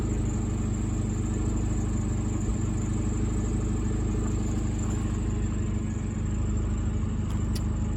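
A car engine runs at a steady idle with a second alternator switched on, producing a constant low drone and a faint high whine throughout.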